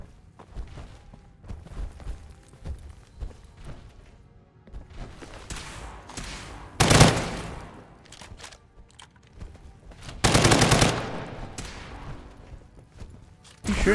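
Gunfire in the Fallout 4 video game crackles through a noisy firefight, with scattered shots and two heavier loud bursts amid thumps and ongoing game sounds, moderately loud throughout.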